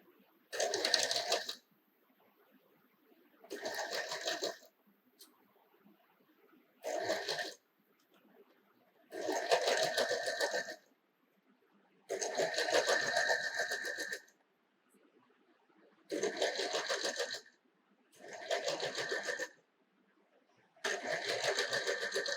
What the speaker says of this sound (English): let's take it on the sewing machine and let me show you how it is done